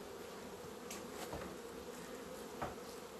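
Honeybees in a queenless hive in February hum in a dense, steady drone close by, with a few louder buzzing passes rising briefly above the constant swarm noise.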